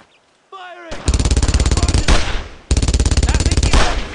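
Rapid automatic gunfire bursts from the World War II shooter Brothers in Arms: Hell's Highway-style Hill 30 battle, loud and close, two long rhythmic volleys after a brief shouted voice.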